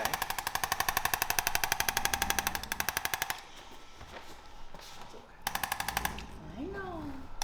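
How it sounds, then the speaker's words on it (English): A handheld chiropractic tapping instrument used on a dog's back, rapid mechanical clicking in a fast steady burst for about three seconds, a pause with quiet background, then a shorter second burst, with a faint whimper-like squeak near the end. "It's a bad angle, so I'm going to use this tapping instrument on this one."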